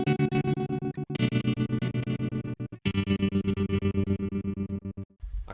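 Electric guitar through tremolo and delay effects with the tremolo phase set to 90 degrees, giving sustained chords a fast, regular choppy pulsing with smeared delay repeats and a couple of brief gaps between chord changes.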